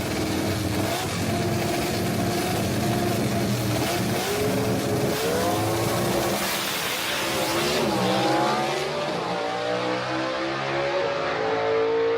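A drag racing car in the C-Gas class at a dragway revs loudly and continuously, its engine tone climbing and wavering with a rough, sustained roar and no one talking over it.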